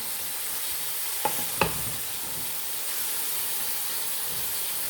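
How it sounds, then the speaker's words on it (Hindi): Chicken pieces for Pakistani-style homemade shawarma sizzle steadily in a hot pan, a constant close frying hiss with two brief utensil clinks near the start and no talking. "बस इसे हमने इतना कुक करना है कि ये चिकन हमारा पक जाए।"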